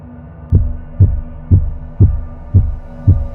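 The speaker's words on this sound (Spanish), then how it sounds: "Latidos cardíacos." A deep, fast synthetic heartbeat, six heavy low thumps at an even quick pace, loud and close with a faint hum beneath and no voices.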